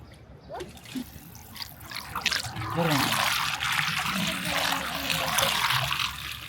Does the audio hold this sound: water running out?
yes